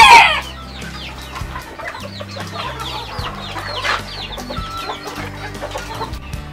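A hen with her newly hatched chicks on a ranch, steady high peeping and soft clucking close by over a low background music bed, with no talking.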